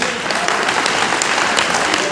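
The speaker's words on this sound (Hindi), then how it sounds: "तो एक तरह के लिए जोरदार ताली होनी चाहिए" An audience at a corporate leadership event in Kolkata breaks into loud, dense applause, a continuous clatter of many hands that holds steady for the whole stretch.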